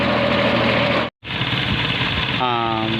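A tractor engine runs steadily on a tar road with a low, rumbling drone that briefly cuts out, while someone talks over it.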